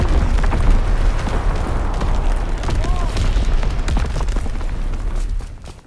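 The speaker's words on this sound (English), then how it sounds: "Sending mortar rounds." Mortar rounds explode in a World War II shooter game, a dense run of heavy booms and bursts layered over constant loud battle noise, fading slightly at the end.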